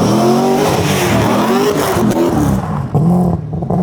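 Two V8 vehicles, a 6.4L Hemi Jeep and an LS-swapped car, accelerate hard side by side in a drag race, engines roaring loud and close with rising revs that fade toward the end.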